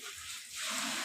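Water running in a bathroom during bathing, a steady broadband rush that grows a little fuller and louder partway through, heard close with no talk over it.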